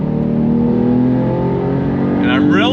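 A 2022 Porsche 911 GTS with the sport exhaust revs loud and close, holding a strong steady engine drone that climbs near the end.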